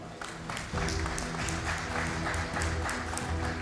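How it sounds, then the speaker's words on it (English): An audience at a corporate felicitation event claps loudly and continuously, the applause swelling and holding over a steady hum of stage sound. "A big applause, please."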